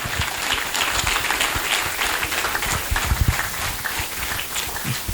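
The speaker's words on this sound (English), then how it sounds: "You can make your applause much louder" A crowd at a university faculty lecture event claps for an arriving guest speaker, a loud, busy patter of many hands that stays steady throughout the short stretch with no talk.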